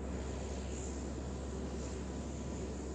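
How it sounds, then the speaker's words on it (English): Steady, loud broadband roar of a hurricane hunter aircraft flying through a hurricane toward the eye, with engine drone and rushing wind noise continuous throughout and no voices. "As the plane heads back for another penetration into the eye"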